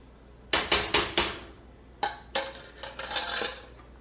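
A metal lid going back onto a pot of simmering spaghetti sauce made with canned tomatoes: several sharp, close clanks and clinks in two quick bursts, with no talking.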